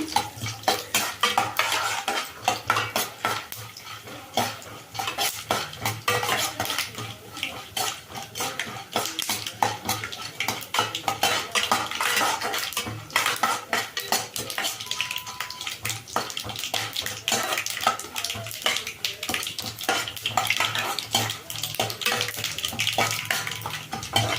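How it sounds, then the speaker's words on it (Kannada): Byadagi chillies frying in oil in a pan while tempering puliyogare gojju, a steady close crackle and sizzle with frequent scraping and clinking of a spoon against the pan throughout. "ಒಂದು ಬ್ಯಾಡಿಗೆ ಮೆಣಸಿನ್ಕಾಯಿ ಫ್ರೈ ಆಗಲಿ ಎಣ್ಣೆನ ಚೆಂದಾಗಿ"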